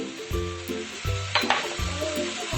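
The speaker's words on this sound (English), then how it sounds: "Next, we will add the soya sauce and the slurry" Soy sauce and cornflour slurry hit a hot pan of gobi over medium-high flame, giving a steady close sizzle with bursts of frying hiss and a few stirring scrapes, no voices.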